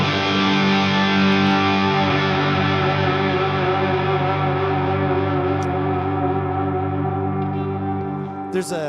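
A single guitar chord struck once through distortion and reverb effects, ringing loud and full for several seconds and slowly decaying with a long, washed-out tail, alone without voices.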